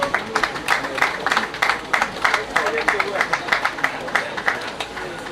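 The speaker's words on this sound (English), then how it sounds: "a round of applause for him, Sir Emeka Okwuosa" An audience at a hospital grand opening and commissioning applauds Sir Emeka Okwuosa, a rhythmic, steady clapping with regular beats that runs throughout, moderately loud, while a voice talks over it.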